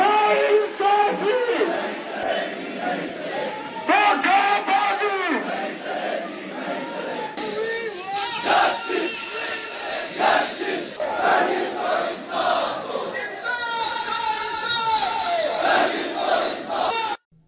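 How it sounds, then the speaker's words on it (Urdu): A large public protest crowd in Kargil chants slogans loudly in unison, with rhythmic surges of massed voices continuing throughout. "اس عمل کے خلاف کرگل میں بڑا عوامی مظاہرہ ہوا، جس میں عوام نے اسے دھوکہ بازی قرار دیتے ہوئے اس کے خلاف زبردست نعرے بازی کی"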